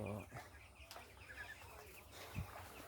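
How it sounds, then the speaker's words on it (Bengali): Faint clucking and scattered chirps from chickens, with a low murmur of voices and background noise throughout. "এই পুকুরের এক সাইডে মাঝখানে দেখেন মুরগির খামার করা হয়েছে"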